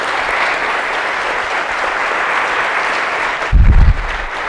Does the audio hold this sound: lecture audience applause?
yes